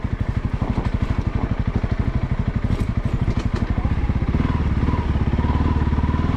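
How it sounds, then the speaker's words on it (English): A Honda CRF300L motorcycle engine pulls steadily in second gear on a cold, snowy ride, its rapid, even firing pulses running loud and close throughout with a slight shift in tone near the end. "I'll throw it in second just to get the engine a break."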